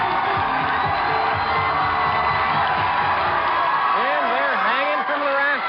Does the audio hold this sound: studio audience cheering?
yes